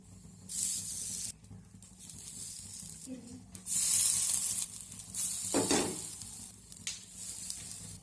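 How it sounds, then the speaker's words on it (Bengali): Slices of brinjal dry-frying in a pan without oil, a quiet hiss and sizzle that comes in uneven bursts, with occasional stirring scrapes and a short louder spatter midway. "তো বাকিগুলো আমি একই রকমভাবে ভেজে নেবো"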